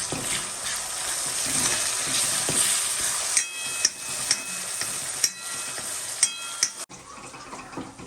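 Finely chopped tomato with salt cooks over low heat in a pan, giving a steady broadband sizzle with periodic sharp scraping taps of a stirring utensil, quieting near the end.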